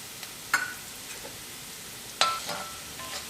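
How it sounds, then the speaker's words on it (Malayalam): Chopped onions frying with a pinch of turmeric powder in a pan for South Indian upma, giving a soft, steady sizzle with two sharp clinks of stirring, close and alone without talk. "സവാള ചെറുതായിട്ടൊന്ന് കളർ മാറി തുടങ്ങിയിട്ട് ഇതിലേക്ക് നമുക്ക് ഒരു നുള്ള് മഞ്ഞൾപ്പൊടി ചേർക്കാം"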